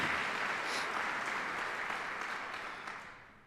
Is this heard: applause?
yes